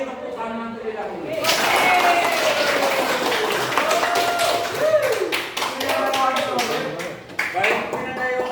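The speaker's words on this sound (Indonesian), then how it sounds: "Kalau setuju ini kita beri tepuk tangan terlebih dahulu." A class in an Indonesian school claps hands together in a quick, lively burst of applause that starts abruptly and carries on with uneven claps, while a voice speaks over it.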